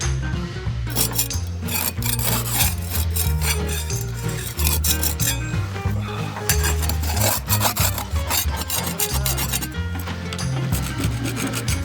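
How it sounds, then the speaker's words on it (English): Rusty, infected paint is scraped off the roof of a 70-foot steel narrowboat, giving loud, close, continuous rasping strokes in a rough repeated rhythm, with no talk. "So to begin treating the rust, we're just going to get rid of all the infected paint"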